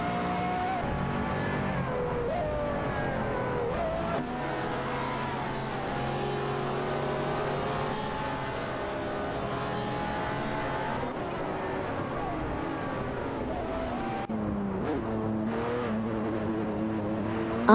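Race cars in an AI racing video game, with continuous whining engine tones rising and shifting as several cars run close together, steady and moderately loud throughout.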